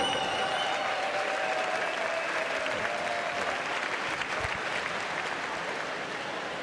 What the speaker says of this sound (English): Big round of applause for Aubrey Mitchell